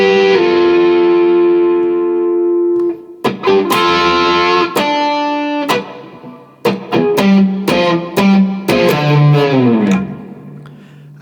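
A distorted electric guitar plays the closing line of a guitar solo slowly, opening on a long sustained note and then moving through separate picked notes and bends, loud and close with no voice.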